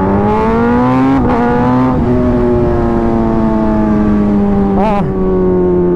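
A motorcycle engine drones loudly and close, its tone sliding up and down as the rider pulls the throttle on a hot-weather ride, with brief rises in pitch as it accelerates.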